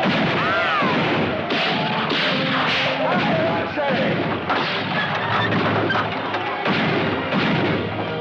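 Gunfire rings out during a western fight at a wagon train, a dense, loud barrage of shots and crashes mixed with shouting and action noise throughout.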